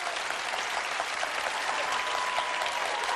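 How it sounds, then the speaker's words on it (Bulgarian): An audience applauds at a Bulgarian televised impersonation show, dense steady clapping from many hands that stays even and fairly loud throughout the short stretch, with no voices over it. "Аплодисменти още веднъж за Ненчо Балабанов."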